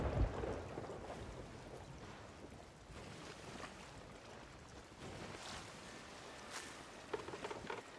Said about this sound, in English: Oh, we're getting some rain.